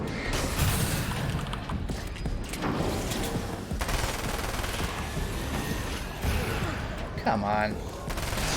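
Grenade blasts and rapid gunfire in a battle in the Alan Wake's American Nightmare video game, with dense bursts rolling on throughout. A voice speaks briefly over the din.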